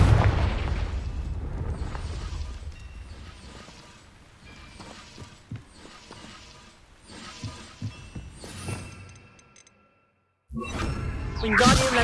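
A Confringo explosion spell in the Hogwarts Legacy video game: rumbling booms and whooshing blasts with scattered mechanical clanks, a sudden near-silent gap, then a loud fiery burst at the end.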